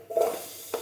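Fried chicken pieces and potatoes tumble into a cooking pot with a brief scraping, sizzling clatter followed by a second small clank, all in under a second.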